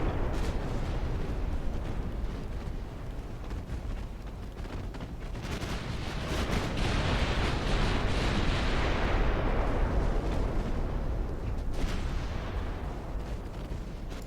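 Warship guns firing in a 1900-era British naval battle in the game Ultimate Admiral Dreadnoughts, heavy booming salvos rolling into a continuous broadband rumble, with several sharp blasts standing out over the din.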